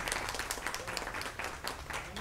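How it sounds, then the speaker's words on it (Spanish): Moderately faint applause from an audience at a jazz festival event, with uneven clapping bursts and a voice speaking over it. "Pero antes un aplauso para Manuel Páez."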